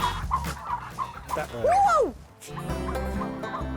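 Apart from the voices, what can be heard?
turkeys calling in a pen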